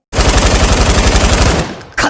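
Diwali firecrackers burst in a loud, rapid string of pops lasting nearly two seconds, then a brief pause before another sharp crackle.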